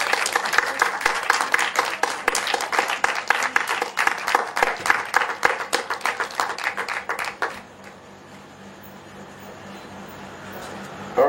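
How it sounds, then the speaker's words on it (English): An audience applauds a reader at an evening literary reading, with dense, steady clapping for about seven seconds before it quickly dies away into quiet room tone. "Can we have another round of applause for Anne-Margaret Lynch?"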